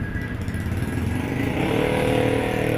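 A 4x4 Wrangler engine idles nearby with a steady, rough rumble that grows slightly louder toward the end.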